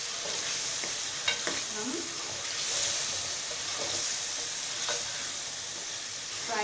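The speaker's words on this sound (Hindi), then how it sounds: "फ्राई करेंगे, अदरक लहसुन की स्मेल को ख़त्म करने के लिए, कच्चापन दूर करने के लिए।" Half a kilo of meat for biryani fries with ginger and garlic in a pan, giving a steady, even sizzle with a few soft scrapes of stirring underneath, heard close up and without talking.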